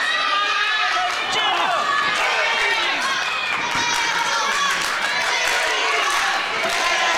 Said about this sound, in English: Crowd rousing behind Marz as well.